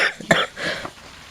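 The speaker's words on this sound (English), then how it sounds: "who would be coughing in the microphone if it's not your master right now?" A person coughs close into a microphone, a few short harsh bursts in quick succession followed by a softer trailing breath, with no speech.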